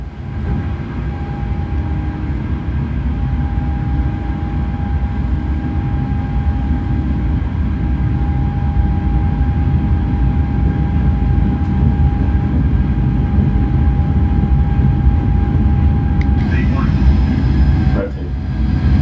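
Boeing 777F jet engines spooling at takeoff thrust in a PMDG flight simulator, a loud steady roar with sustained tonal whine throughout, ending with a brief shift near the end; cockpit callouts are spoken over it.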